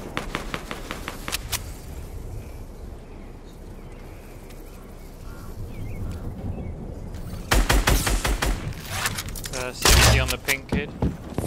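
Bursts of gunfire in Fortnite: sparse sharp shots early on, then louder rapid volleys near the end, with players talking between and over the shooting.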